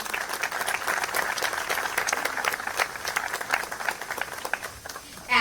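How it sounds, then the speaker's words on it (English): At a school district ribbon cutting ceremony, an audience claps for student performances with sustained, moderately distant applause that continues evenly to the end. "let's give one more final round of applause for all our student performances this"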